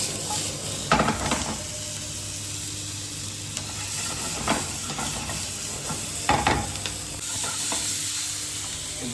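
Cumin sizzling in hot oil in a pan, with a spatula stirring and scraping in several sharp bursts over a continuous fry hiss.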